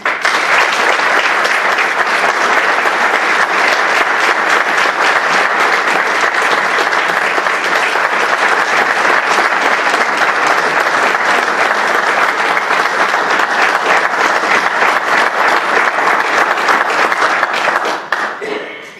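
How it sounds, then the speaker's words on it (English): A dense, sustained round of audience applause greets the new interim chancellor at a university gathering, loud and steady for nearly twenty seconds before tapering off at the end. "that was a nice round of applause"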